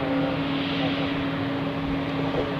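A Swiss Airbus A220-100 airliner at Zurich Airport gives a steady, loud jet engine roar that holds evenly without pause, with no voices over it.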